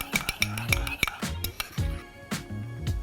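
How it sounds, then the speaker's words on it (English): A spoon stirs sriracha into butter in a small dish, making repeated quick clinks and soft scrapes, close and clear, with no talking. "stir that through into the butter"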